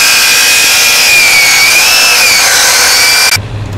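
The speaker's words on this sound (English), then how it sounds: "Cutting and welding the cross members that will hold up the bricks." A power saw cuts steel cross members for a brick barbecue grill, a loud, steady high-pitched grinding whine running continuously before stopping abruptly near the end.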